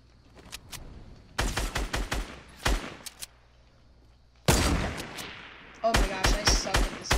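Bursts of automatic gunfire from a shooting video game, several loud rapid volleys separated by quieter gaps, with a few single shots early on.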